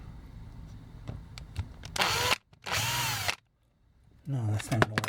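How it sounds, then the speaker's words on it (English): A small power drill whirs in two short bursts with a brief pause between, followed by another quick whirring burst after a gap of silence, boring into the plastic of a vintage Takara Microman toy robot. "have to drill just a little bit more with the larger drill bit"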